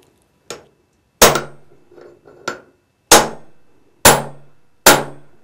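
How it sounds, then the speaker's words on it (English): Sharp metal hammer blows drive a bushing into a 4L60E transmission case, six loud ringing strikes at uneven intervals with lighter taps between, close and without speech. "Drive the bushing in."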